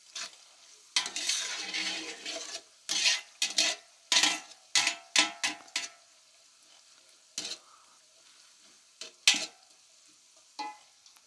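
Carrots and raisins fry in oil as a garnish for kabuli pulao, with a soft sizzle under bursts of stirring and scraping of a utensil against the pan, the stirring in uneven clusters between quieter stretches.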